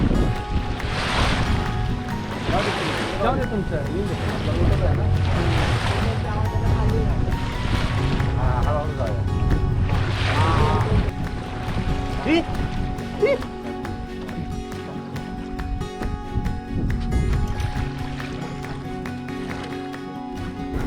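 Out on the sea, a boat's engine drones steadily on a dolphin safari off Devbag near Malvan while wind and waves rush past, and people talk throughout.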